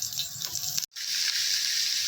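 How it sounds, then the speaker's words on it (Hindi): About a glass of water poured into a karahi over roughly a kilo of boneless chicken for Afghani namkeen karahi, a steady close splashing gush that cuts out briefly and resumes as a continuous pour. "इसमें अब हम 1 गिलास पानी डाल लेंगे"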